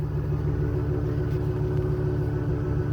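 A 2002 Lincoln Blackwood pickup truck's exhaust idles on a cold start with a steady, low, mellow rumble, close by and continuous throughout.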